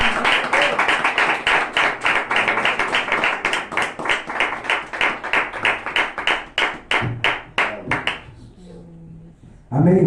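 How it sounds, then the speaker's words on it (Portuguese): A church congregation at a Sunday service claps in a loud, fast, steady rhythm for about eight seconds, then the clapping thins out and stops, leaving a brief pause before the sound swells again. "vamos dar uma linda salva de palmas para o Senhor Jesus"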